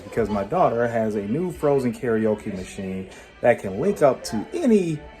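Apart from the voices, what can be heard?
No everyday noises stand out.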